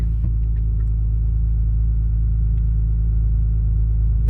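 A Dodge Challenger 392 at a drag strip gives off a loud, steady, low engine rumble that holds evenly throughout, close and alone with no voices.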